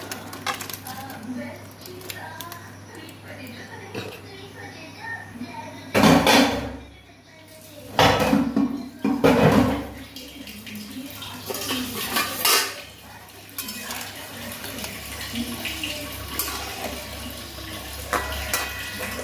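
Vegetables, cauliflower, potato and papaya, handled in a kadai in a home kitchen: metal utensils clatter and scrape against the pan in bursts, with a few louder knocks in the middle, over faint background noise.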